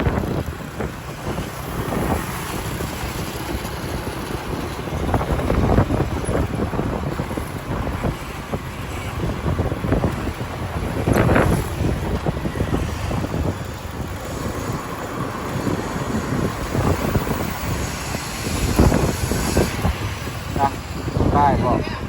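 Wind buffets the microphone while riding a motorbike along a road, a constant rumbling roar with gusty surges throughout, someone talking over it.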